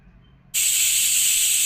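After a brief quiet moment, a pressure cooker holding spiced rice bursts into a loud, steady hiss of escaping steam that continues unbroken to the end.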